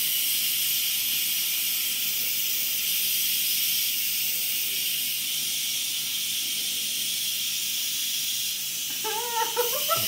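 An Instant Pot pressure cooker hisses loudly through a quick release, a steady close jet of venting steam that holds for about ten seconds, with a few faint knocks near the end.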